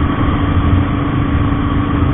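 A GT 650 motorcycle engine idles with a steady, even putter, loud and close, with no voices.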